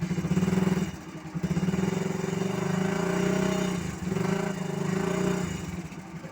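A Thunder 125 motorcycle engine, hand-started, runs steadily nearby with a throbbing mid-pitched drone that dips briefly and then picks back up, continuing alone without talk.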